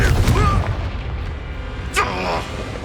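A Confringo fire spell bursting in the Hogwarts Legacy game, a deep booming blast with rumbling tail, followed by another fiery crackle, up close over game sounds.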